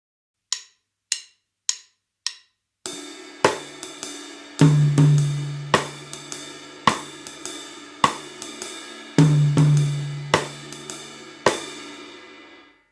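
Jazz drum kit pattern played alone, starting with four sharp cross-stick clicks, then a busy groove of rim clicks, hi-hat and cymbal wash with two sustained low tom strokes ringing out, close and moderately loud.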